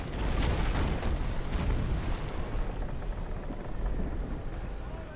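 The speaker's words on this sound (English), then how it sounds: "then I decided to fire anyway and switch to my cannons firing from the stern" Ship cannons firing from the stern in the naval battle game Naval Action, heard as heavy, rumbling booms that are strongest at the start and then roll on as a sustained low roar.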